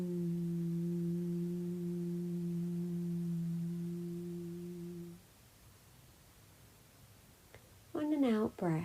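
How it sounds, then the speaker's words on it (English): A soft, steady vocal hum used as a meditation exercise holds a low pitch for about five seconds, then fades to quiet before a person begins speaking. "A humming sound."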